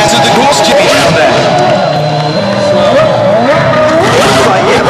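At the Red Bull X Fighters 2009 show in London, a Red Bull Formula 1 car screams through the course with rising and falling engine pitch and squealing, skidding tires, loud over crowd noise and commentary.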